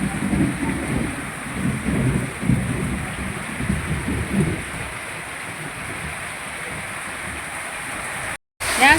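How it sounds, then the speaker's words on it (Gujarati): Heavy rain pours down during a storm, a loud steady hiss that is strongest early on and eases later, with a short dropout near the end. "વરસાદ બહુ આવે છે"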